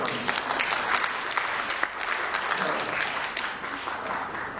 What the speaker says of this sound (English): That's a rather tepid applause.